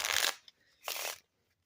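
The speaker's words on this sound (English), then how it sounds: "Do an overhand shuffle." Two quick riffling bursts of an overhand shuffle of playing cards, close and crisp, separated by a brief pause.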